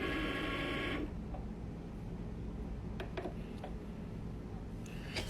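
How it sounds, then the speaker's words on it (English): A Cricut cutting machine slices felt petals on a mat, giving a steady mechanical whir with a few faint ticks and clicks as the carriage moves, heard up close with no talking. "And now it's time to cut it with the Cricut."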